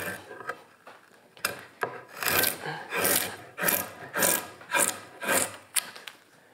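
Draw knife shaving the corners of a wooden chair part in a chairmaking workshop: a series of about nine rasping strokes, close and fairly loud, each a short scraping pull with brief pauses between, no talking.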